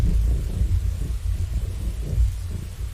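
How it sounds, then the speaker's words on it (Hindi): A heavy thunderstorm as an animated-story sound effect: continuous rolling thunder rumbles under a dense wash of pouring rain, loud and unbroken throughout. "बिजली लगातार गिर रही है।"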